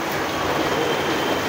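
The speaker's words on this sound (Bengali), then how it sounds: "বিশাল বৃষ্টি শুরু হয়েছে" Heavy rain pours down in the dark, a dense, steady broadband hiss with no gaps or voices for the whole short stretch.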